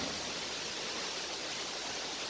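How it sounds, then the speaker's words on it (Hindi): Water from a draining pond's outlet pours down in a steady, even rush, a continuous broadband roar with no voices. "हम झरने देख रहे हैं जो बरसात बंद होने के बाद भी कई दिनों से बह रहे हैं।"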